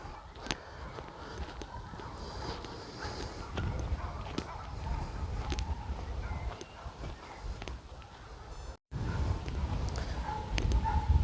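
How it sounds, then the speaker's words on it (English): Dogs bark in the distance across a valley, faint and scattered, over an outdoor woodland background with rustling and occasional footsteps. "You can hear dogs barking"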